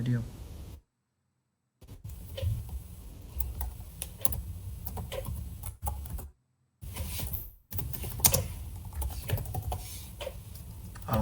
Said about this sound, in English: Could you type that in?